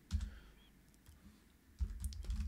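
Keys being typed on the compact built-in keyboard of a Steam Deck handheld while writing Python code, a short burst of soft taps, a pause, then a denser run of close keystrokes at the end.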